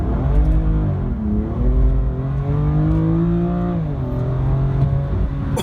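A BMW M2 Competition accelerates hard at full throttle in the low gears, its loud, close engine note climbing and dropping with each shift in a continuous, strained roar.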